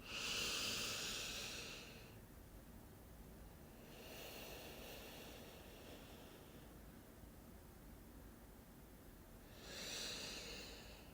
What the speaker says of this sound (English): Take some deep intentional breaths in and out through your nose.